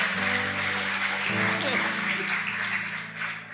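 A congregation at a church service claps steadily, a dense patter of applause with a low hum underneath and a few voices mixed in.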